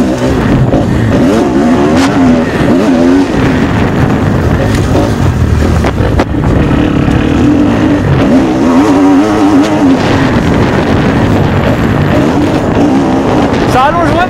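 A 2015 Kawasaki KX-F motocross bike engine, 450 or 250, revs and pulls hard while riding. The loud, continuous engine note rises and falls through the gears, with some talk mixed in.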